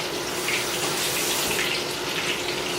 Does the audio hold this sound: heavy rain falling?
no